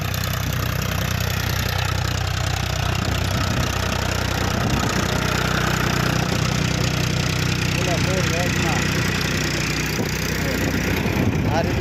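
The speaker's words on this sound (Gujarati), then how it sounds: "આવડી ટ્રેક્ટર હાલે છે" A large tractor engine runs on a farm among mango trees, producing a steady, loud, continuous mechanical drone with a low rumble and knocking texture throughout, with no pauses.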